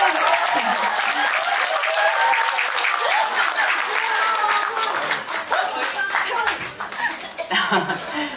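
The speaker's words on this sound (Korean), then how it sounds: "여러분 큰 박수로 환영해 주시기 바랍니다" An audience at a political talk concert in Mapo applauds loudly to welcome a lawmaker taking the stage, dense clapping mixed with laughter and chatter, thinning toward the end.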